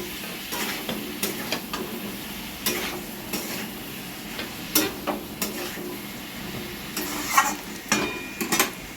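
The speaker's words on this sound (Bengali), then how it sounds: "একসঙ্গে কিছুক্ষণ নেড়ে চেড়ে নেবে, কষিয়ে নেবে একটু কিছুক্ষণ" Pointed gourd and prawns are sautéed together with tomato sauce, a low continuous sizzle under repeated spatula scrapes and clinks against the pan at an uneven rhythm.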